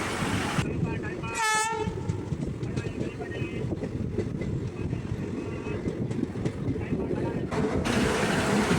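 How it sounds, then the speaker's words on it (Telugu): A passenger train running at speed through a station on the Jammikunta to Mancherial line, recorded from on board: a loud, steady rumble and wind roar with a brief horn blast early on. "ఇది ఇక్కడ బాగా స్పీడ్గా పోతుంది ట్రైన్"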